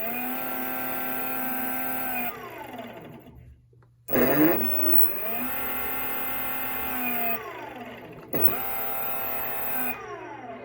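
An e-bike BLDC motor runs on throttle through its controller, a loud whining hum that ramps up and down in pitch, cuts out briefly near the middle, then spins up again twice.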